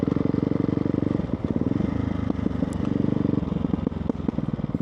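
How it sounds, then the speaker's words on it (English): A Ducati Hypermotard 698 Mono single-cylinder motorcycle with a loud exhaust runs close by, a rapid, pulsing thump with revs rising and falling, raw and throaty, heard alone. "This exhaust is loud. It's way too loud, but it sounds nice."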